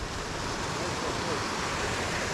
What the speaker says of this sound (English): We're at this waterfall here.